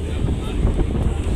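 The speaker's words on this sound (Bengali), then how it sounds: "আজ টপ ছাদে প্রচুর বাতাস" Strong wind buffets the microphone on the open top deck of a river launch on the Chandpur route, a steady roaring rumble with low gusty thumps and a broad hiss, close and continuous with no voices.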